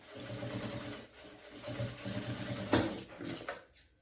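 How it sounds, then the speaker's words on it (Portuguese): A sewing machine stitches with white thread in a steady, fast mechanical whir that runs for a few seconds, then slows and stops, with faint handling noises at the end. "Regulei minha máquina pro ponto 3 e vou fazer a costura aqui."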